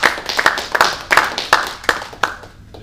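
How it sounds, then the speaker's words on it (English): A few audience members at a tech meetup clap at close range, with sharp individual hand claps in an irregular rhythm of about eight distinct bursts that thin out and fade toward the end. "So give them a round of applause."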